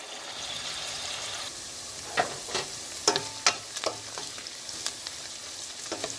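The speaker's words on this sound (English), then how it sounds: "we're gonna stir it. All right, we're gonna cook this until it's about to be brown." Bitterleaf stew ingredients fry and sizzle in a pot while being stirred, a steady close crackle broken by several sharp scraping spoon strokes in the second half.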